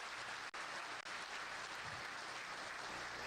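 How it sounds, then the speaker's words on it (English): A faint, steady patter of an audience clapping continues throughout without a break, distant and fairly quiet, with no voices over it. "which deserves applause"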